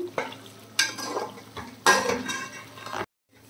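Prawn pickle frying in a pan, with bursts of spoon scraping and stirring against metal over a soft sizzle, close and loud, then a sudden cut to near silence.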